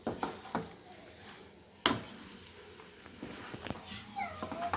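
A spoon stirs black pepper into goat blood fry in a pan, with soft scraping strokes and a faint sizzle, plus a loud knock near the middle; no one speaks.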